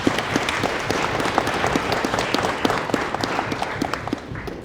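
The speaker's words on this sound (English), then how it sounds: "round of applause" Applause from an audience at a national Aboriginal moot event, steady crowd clapping with some sharper individual claps standing out, loud and continuous throughout.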